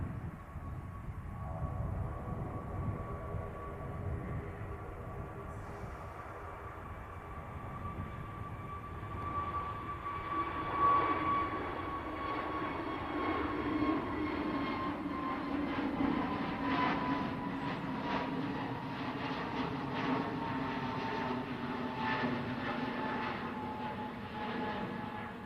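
Airliner at Manchester Airport on its takeoff roll, a distant engine roar swelling into a broad rumbling whine with a faint high tone, steady and far off without speech.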